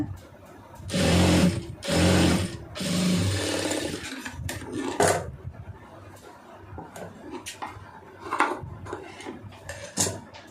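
A sewing machine stitches a round neck in three loud, close bursts near the start, followed by quieter handling clatter and light knocks.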